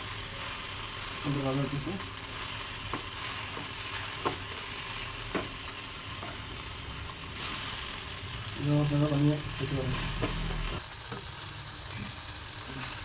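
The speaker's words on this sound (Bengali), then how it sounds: "মাছ পেঁয়াজ দিয়ে ভালো ভাজা হলো" Fish with a little shrimp and onion sizzling in a hot pan, stirred with scraping clicks and occasional utensil taps, the frying hiss steady beneath someone speaking briefly.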